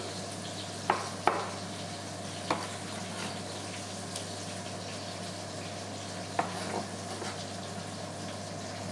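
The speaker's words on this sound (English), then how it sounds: "So I'm just cubing the beetroot into about centimetre square pieces" A few sharp knife taps cubing beetroot on a cutting board, sparse and irregular, over a steady low hum in a quiet kitchen.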